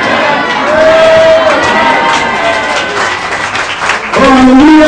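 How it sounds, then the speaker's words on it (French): A church congregation applauds and cheers loudly, dense clapping mixed with shouts and whoops filling the room, with voices rising above the din and a brief pause before the cheering surges again. "Acclamation, ovation, plus fort que ça, plus puissant que ça"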